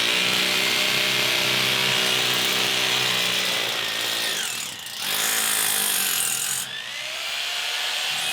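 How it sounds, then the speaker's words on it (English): A power drill grinds continuously into masonry, drilling a hole for a concrete screw, briefly easing off near the middle before revving back up, loud and close throughout. "So I'm going to start drilling this hole now."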